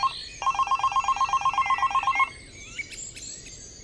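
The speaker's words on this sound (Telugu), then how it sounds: "నీకు ఫోన్ వచ్చింది." A telephone rings with a rapid trilling bell in two steady bursts, then stops, leaving a few faint chirps in the background.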